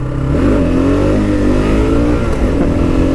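A 2015 Kawasaki KLR 650 single-cylinder motorcycle revs hard as the front lifts into a first-gear wheelie, a loud, close engine roar climbing and wavering in pitch without pause.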